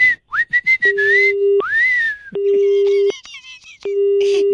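A telephone busy tone sounds after a call is cut, in three long, steady low beeps, with shrill whistled chirps and sliding tones filling the gaps between them.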